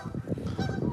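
A flock of Canada geese honks in a dense, continuous chorus of overlapping calls, close and fairly loud, with no talking.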